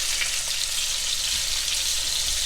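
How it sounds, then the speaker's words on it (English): Steady, loud sizzling of pork chops frying in a hot pan, a continuous crackling hiss with no voices. "So you can hear that lovely sizzle."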